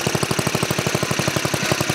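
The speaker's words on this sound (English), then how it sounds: "I like to run the engine a little bit after an oil change." A riding lawn mower engine runs steadily after an oil change, with a rapid, even chugging pulse that sounds close and fairly loud, with no voices over it.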